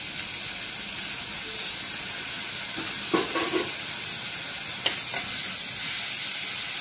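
Ginger garlic paste sizzles in a pan with golden-browned onions, a steady close frying hiss throughout with a few brief stirring clatters near the middle, no voices.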